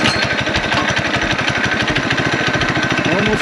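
The small single-cylinder engine of a Coleman BT200X mini bike, fitted with richer jets, runs close by at around 1700 RPM with a loud, steady, rapid chugging putter and no pauses.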